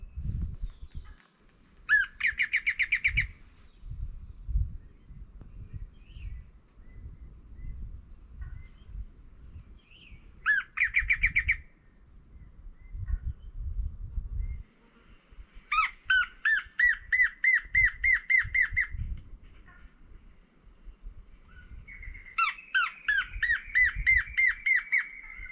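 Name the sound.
bird song played back for birding, birds responding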